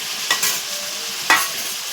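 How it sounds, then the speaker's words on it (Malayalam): A paste of shallots, garlic and ginger gets stirred in a pan, with two distinct scraping strokes over a soft background sizzle. "എന്നിട്ട് നന്നായിട്ടൊന്ന് ഇളക്കി യോജിപ്പിക്കണം"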